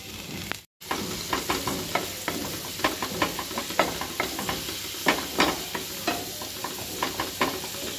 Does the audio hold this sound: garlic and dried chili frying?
yes